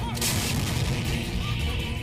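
An M777 ultra-light howitzer firing at the Pokhran field firing range in Rajasthan, a heavy sustained roar and rumble rolling across open desert without a clear single onset, thick low-end boom filling the whole stretch.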